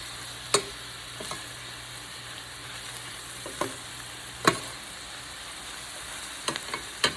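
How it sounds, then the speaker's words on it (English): A colorful vegetable stir fry of mixed veggies sizzles softly in a pan, a faint steady hiss broken by a few sharp clicks of a utensil against the pan. "Look how beautiful that stir fry is, how colorful."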